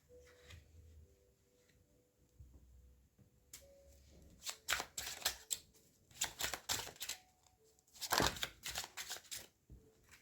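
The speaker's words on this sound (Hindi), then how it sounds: "तो 7 डेज़ के लिए एक एक करके कार्ड निकालेंगे हम लोग यहाँ पर" Tarot cards drawn from a deck one at a time for a weekly reading, with quiet handling at first, then bursts of crisp riffling and slapping card sounds in close, irregular clusters, loudest near the end, with no talking.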